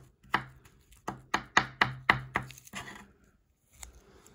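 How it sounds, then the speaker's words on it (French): A knife slices garlic into thin slivers on a cutting board, about eight crisp, evenly spaced chops close up, followed by a short pause and one faint knock. "on coupe l'ail"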